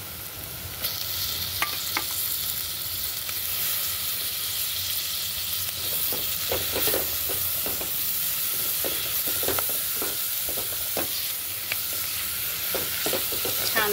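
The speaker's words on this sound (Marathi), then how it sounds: "हे वाटण आता आपल्याला तेलामध्ये परतून घ्यायचं आहे." Spice paste and tomatoes fry in hot oil with a constant sizzle and hiss, and a spoon scrapes the pan in repeated strokes, close and steady.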